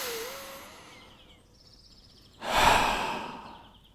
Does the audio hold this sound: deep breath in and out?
yes